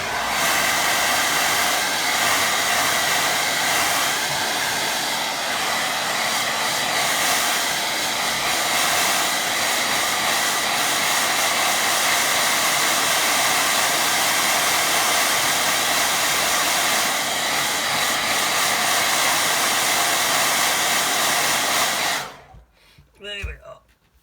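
A hair dryer blows steadily and loudly close by for over twenty seconds while drying a watercolour painting, then cuts off abruptly, leaving a few faint handling noises.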